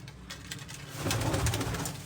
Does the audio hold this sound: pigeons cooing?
yes